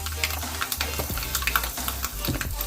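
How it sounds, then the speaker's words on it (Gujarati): Half a spoon of asafoetida hits hot ghee already holding mustard seeds and cumin for a dal khichdi tempering, giving a close, crackling sizzle with scattered pops and a spoon stirring in the pan. "હવે આપણે એની અંદર અડધી ચમચી હિંગ નાખીશું."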